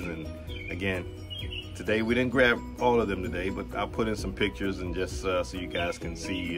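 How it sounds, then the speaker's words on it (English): Cardinals and blue jays in a backyard chirp and tweet in the background while a person talks steadily over them, the bird calls light and intermittent beneath the voice. "They're chirping away right now as we're talking."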